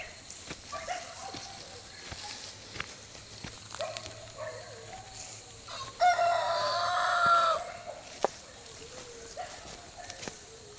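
Chickens cluck near a homestead chicken coop, and a rooster crows loudly about midway. Scattered sharp clucks and calls come over quiet outdoor background, with a voice talking faintly at times.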